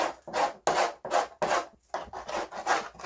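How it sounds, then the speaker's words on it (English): Old foam being scraped from the inside of a Yamaha TZR250 3MA motorcycle fairing panel, heard as repeated rasping strokes, about ten in quick rhythm, close and clear with no voices. "I'm just going to give this panel a clean up, remove all this old foam from the inside."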